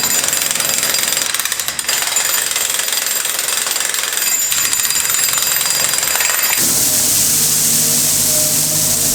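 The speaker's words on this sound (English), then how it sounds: "So I'm just gonna chisel them off real quick." A powered chisel hammers off protruding concrete at a basement opening, a loud, continuous rapid pounding with short pauses, then giving way to a hissing, rushing noise near the end.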